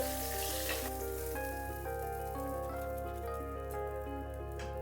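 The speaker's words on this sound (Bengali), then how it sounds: "পটলগুলো ভাজা হয়ে গেল এবারে নামিয়ে নিচ্ছি" Pointed gourd pieces sizzle steadily as they fry in hot oil in a pan, a continuous close crackle with faint utensil clinks and no talking.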